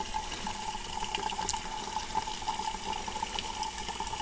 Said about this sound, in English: I fill this up. I'm about halfway with water.